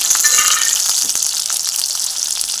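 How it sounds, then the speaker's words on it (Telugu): Green chillies frying in oil for an idli chutney, a close, continuous bright sizzle with faint stirring. "పచ్చిమిరపకాయలు వేగినాయి"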